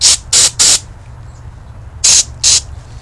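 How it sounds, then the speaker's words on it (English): Carb cleaner sprayed through a plugged hole in a snow blower carburetor, five short sharp hissing bursts: three quick ones, a pause, then two more, loud and close over a low background hum. "so we're just going to spray a little through."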